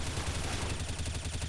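A burst of rapid gunfire from a suppressed M4A1-S rifle in Counter-Strike, shots coming in quick succession at a fairly loud level, with a low rhythmic thump underneath and no talking.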